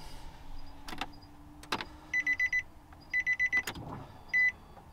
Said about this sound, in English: So I'm gonna prime the pump.